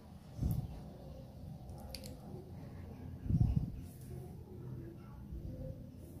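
Chopped large onions are worked by hand into a bread pakoda mixture, giving two distinct soft squishing bursts against a quiet kitchen background.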